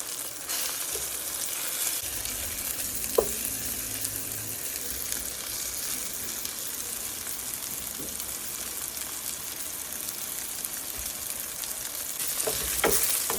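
Eggplant (brinjal) pieces fry in oil for an instant pickle, giving a steady close hiss and sizzle throughout, with a few faint clicks and pops and no talking.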